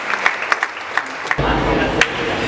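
An audience at a film launch event applauds, with scattered claps that swell into steady, close clapping, while a voice speaks over it at times.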